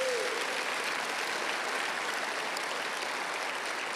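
Steady applause from a church congregation, a dense wash of clapping that holds evenly throughout at moderate loudness with no talk over it.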